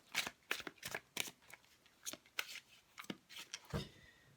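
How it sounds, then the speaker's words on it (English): Tarot cards being shuffled by hand, a close, crisp series of quick riffling snaps and soft flicks in an uneven rhythm, fairly quiet with no voices. "I put it in the middle, shuffled it up"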